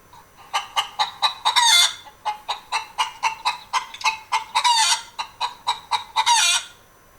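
A hen clucks loudly and rapidly in repeated bursts, rising into excited squawks several times, close to the listener.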